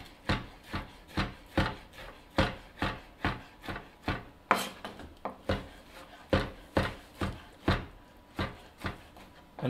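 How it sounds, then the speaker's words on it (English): Leftover tuna loin being ground into a coarse mince, giving a close, steady rhythm of rasping, scraping strokes about twice a second with no talk. "So let's just grind this up to make our spicy tuna ingredient."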